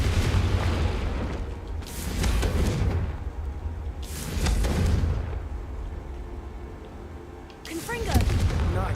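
Fiery Confringo spell blasts in the Hogwarts Legacy video game: three heavy booming explosions, each swelling into a rumbling roar a few seconds apart, over a constant low background.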